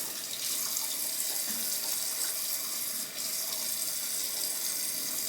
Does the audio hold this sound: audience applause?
no